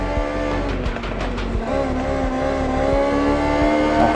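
Race car engine in Forza Horizon 6 revving hard through the gears, a steady high-pitched whine that drops at each shift and climbs again, close and loud with no talk.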